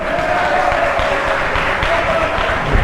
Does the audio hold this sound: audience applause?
yes